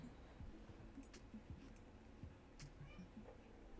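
A pet cat named Pants meows several times in a home kitchen while vegan brownies are made, short soft calls spread through the stretch over faint background noise.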